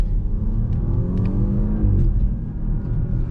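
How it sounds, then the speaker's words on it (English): An Audi A8 heard from inside as its engine pulls under acceleration, a loud, steady low exhaust rumble with rising tone and faint brief puffs, with no voices. "It has some sort of exhaust note where it has like a dumping sound, like it's dumping air or something at the end of each upshift."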